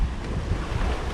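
Ocean waves and rushing wind on board a sailboat crossing open sea as the waves build quickly, making a steady loud wash of water and wind noise with no talk.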